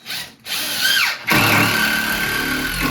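A power drill drives temporary screws into garage shelving: two loud whirring bursts, the first brief, the second longer, separated by a short pause, close by with no talk.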